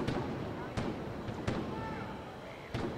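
Gunshots in the Tropico game, a rebel showdown, come as four sharp separate cracks spaced about a second apart over steady crowd and game ambience, with a voice talking faintly underneath.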